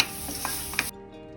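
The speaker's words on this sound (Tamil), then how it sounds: "கொஞ்சம் தனியாத்தூள் போட்டு நல்லா வதக்கிடுங்க." Coriander powder sizzles while being stirred and sautéed in a pan for a home-style Tamil egg gravy: a close, steady frying hiss with scraping stir strokes that stops abruptly about two-thirds through.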